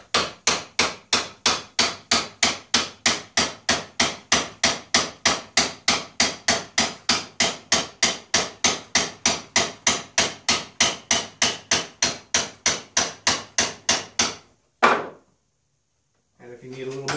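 A file clamped in a vise knurling a metal part, struck in a fast, even run of sharp close metallic knocks, about three per second for fourteen seconds, then one last hit and quiet.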